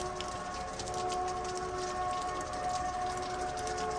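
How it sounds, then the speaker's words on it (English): Cumbres and Toltec Scenic Railroad K36 2-8-2 steam locomotive number 484, built 1925 by Baldwin, arriving at Chama, New Mexico from Antonito; a faint, distant steady whistle tone over low rumbling ambience. "the Cumbres and Toltec Scenic Railroad train is about to arrive from Antonito"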